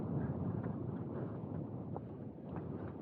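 Strong, cold wind roars across a mountain ridge in the Lake District near Grisedale Tarn, a continuous low rumbling buffet on the microphone with no voices.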